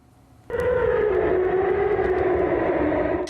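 A loud, sustained fire alarm tone starts abruptly and wails on continuously with a slowly wavering pitch, ending just as suddenly; it is one of about 50 faulty alarms sounding at night in Taipei.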